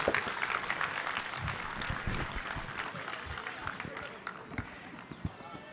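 An audience at a Delhi residents' welfare association meeting claps loudly and steadily to welcome Chief Minister Arvind Kejriwal, a dense burst of applause that fades slightly toward the end.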